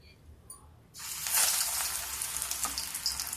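Pakoras, spinach batter fritters, dropped into hot oil, which bursts into a loud, close, continuous bubbling sizzle after a quiet start.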